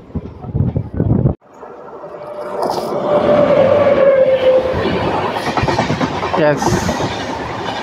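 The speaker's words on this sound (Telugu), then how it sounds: "ఇక్కడ నాకు తెలిసినంత వరకు విజయవాడ లింగంపల్లి ఇంటర్సిటీ ఎక్స్ప్రెస్తో క్రాసింగ్ ఉండొచ్చు" The Vijayawada–Lingampalli Intercity Express passes by, a loud, close rumble with clattering wheels and a brief squeal that runs on for several seconds after a voice speaks at the start.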